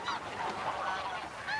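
Greylag geese honk in a loose overlapping chorus, calls fairly near and moderately loud, with no talking.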